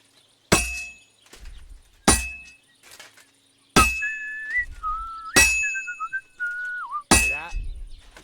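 Several loud, ringing metallic hammer strikes on heated metal on an anvil in a video game, spaced about a second or two apart, with clanking debris and a whistling tone between blows.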